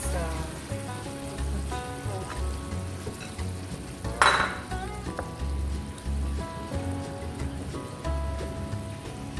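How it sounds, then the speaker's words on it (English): Prawns frying with broccoli in a pan for shrimp rice, a steady close sizzle with spattering crackles and a sharp burst of hissing midway, over a repeating low hum. "I will add my prawns"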